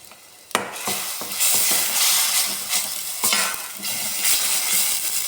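Curd being stirred by spoon into a pan of garlic raita after the gas is turned off: a sharp clink starts it, then continuous wet stirring and soft sizzle with occasional spoon taps against the pan, close up, no speech.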